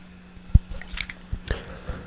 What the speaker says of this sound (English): I got a water bottle here for some